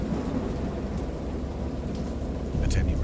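Heavy rain pours steadily in a storm while deep thunder rumbles low underneath, swelling louder near the end in a dense, continuous wash.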